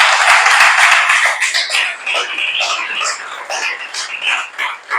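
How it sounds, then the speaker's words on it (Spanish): Church congregation breaking into applause to welcome a first-time visitor, a dense wash of many hands clapping loudly at first, then thinning into scattered claps over about five seconds. "un aplauso para él"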